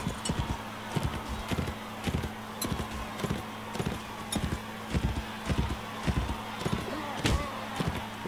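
Horse hooves from the medieval combat game Mount and Blade Warband, a steady clip-clop of galloping or trotting hooves held over a constant droning game ambience.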